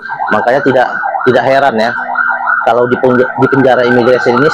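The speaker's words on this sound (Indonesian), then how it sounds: "nah itu suara ambulans ya" An ambulance siren wails at an immigration detention camp in Malaysia, its steady tone running under a man's loud, continuous talking.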